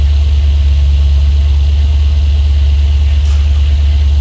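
A 1978 Dodge Aspen Super Coupe that sat for 30 years drives along, its engine and the cabin rumble giving a loud, constant low drone close up with steady road hum and no breaks.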